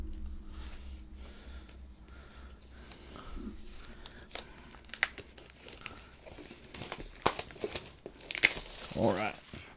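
Plastic wrap being cut and peeled off a Pokémon Shiny Fates Elite Trainer Box, with steady crinkling and tearing that grows louder and busier toward the end, mixed with a low hum early on.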